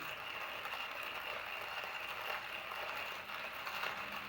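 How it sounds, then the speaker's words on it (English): Manual coffee grinder crushing beans for French press coffee, a steady grinding rattle running continuously and fairly close with no speech. "my handy dandy grinder, and then grind"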